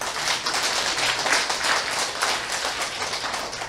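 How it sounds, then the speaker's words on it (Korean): A seminar audience claps together in a dense, continuous wash of applause that stays even and fairly loud throughout. No one speaks. "박수치면서 눈 뜨세요"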